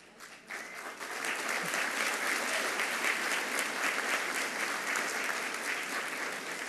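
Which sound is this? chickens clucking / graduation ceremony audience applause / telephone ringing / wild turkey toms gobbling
graduation ceremony audience applause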